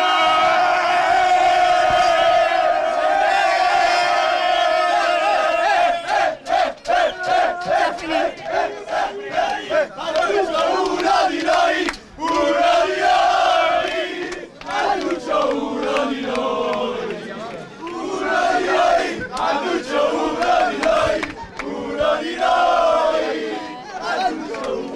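A football crowd celebrating a promotion to Serie D roars and chants loudly and continuously, with massed voices close by and swells of shouting and whooping throughout.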